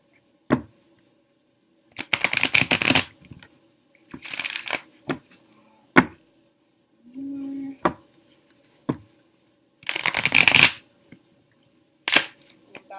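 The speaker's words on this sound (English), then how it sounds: "I will shuffle them again on camera so you can see." Tarot cards shuffled by hand in several quick riffling bursts, each lasting under a second, separated by pauses with a few soft taps and brief handling noises, close and clear against a quiet background.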